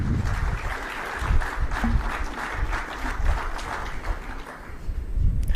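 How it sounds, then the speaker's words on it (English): An audience applauds to welcome a speaker at a summit in Vijayawada, Andhra Pradesh, producing steady, dense clapping that holds at an even level throughout without talk. "Please welcome again with a big round of applause."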